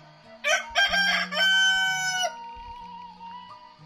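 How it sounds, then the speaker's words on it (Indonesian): Roosters crowing at dawn, around 5:30 in the morning, in the outer Baduy village of Kanekes; one loud close crow with long drawn-out harmonic tones, followed by fainter answering crows and clucks in the background. "Masih ayam juga, masih banyak yang berkokok"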